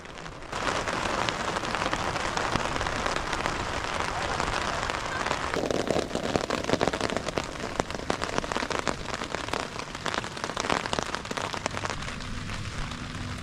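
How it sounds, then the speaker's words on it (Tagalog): Rain falls steadily on a mountain-top campsite, a dense continuous patter of drops striking nearby surfaces, loud and close throughout with no voices. "At nagsimula na nga pumatak ang ulan."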